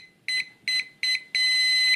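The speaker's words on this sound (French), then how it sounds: "vous trimez jusqu'à ce que vous entendiez un bip long." A Eachine E32HW drone remote control sounds three short, evenly spaced electronic beeps, then one long sustained beep as the trim resets. The beeps are close, clear and alone.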